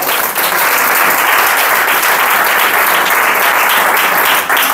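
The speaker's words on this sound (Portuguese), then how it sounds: "E você aplaude o Eterno." A church congregation applauds during a family worship service, a loud, sustained, dense roar of many hands clapping continuously without a break.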